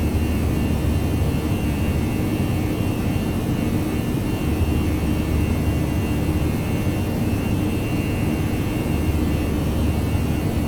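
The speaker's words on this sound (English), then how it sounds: "So as you can see here, aircraft is picking up speed." Jet engines of an Airbus A319 roar steadily as it accelerates down the runway for takeoff in X-Plane 11, a loud, even, broadband rush that holds for about ten seconds with no voices.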